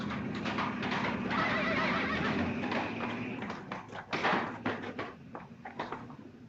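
A man whinnies and neighs like a horse, a loud, wavering, rising-and-falling vocal imitation that runs throughout with some clattering underneath, in a scene from the 1949 comedy film Sorrowful Jones.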